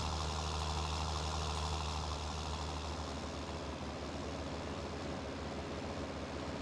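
A wide tractor idles in Farming Simulator 19, a faint, steady low engine rumble running throughout with no voices.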